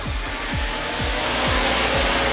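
Race cars starting a race at Gympie Speedway, a loud continuous engine roar with repeating rising-and-falling revving sweeps as the cars accelerate together.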